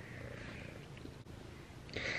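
A cat purring steadily under a blanket, a soft continuous rumble held close for a couple of seconds, briefly dipping and then swelling a little louder near the end.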